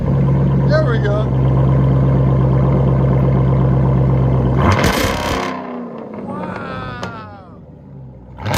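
A Dodge Durango SRT with a 6.4-liter HEMI V8 and straight-pipe exhaust idles with a deep, steady rumble, then blips into a sharp, loud rev. Excited voices react around it afterwards.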